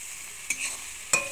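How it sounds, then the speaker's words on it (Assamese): Finely chopped raw potatoes fry in a hot pan with a steady sizzle. Two sharp stirring scrapes break through the sizzle, with no talking. "আলুখিনি অলপ সময় মই ভাজি লম"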